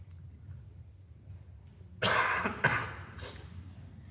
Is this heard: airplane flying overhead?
no